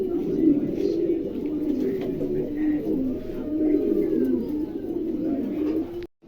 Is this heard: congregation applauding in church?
no